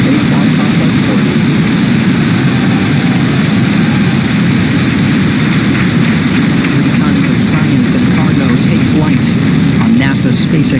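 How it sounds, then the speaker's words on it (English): A SpaceX Falcon 9 rocket lifts off on a Dragon cargo resupply mission to the Space Station with a dense, steady roar that fills the whole stretch, loud and continuous, rising into crackle toward the end. "9, 8, 7, 6, 5, 4, 3, 2, 1, ignition, and liftoff."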